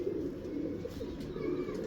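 A pigeon held in the hand gives soft, low coos up close, with a faint murmur of background noise and no speech.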